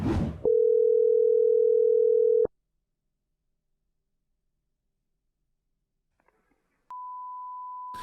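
Telephone tones while calling a coin shop: a steady beep of about two seconds, then silence with faint clicks, then a second continuous tone at a higher pitch.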